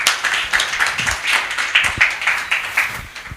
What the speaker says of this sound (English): A round of applause for Ms. Nyamosi.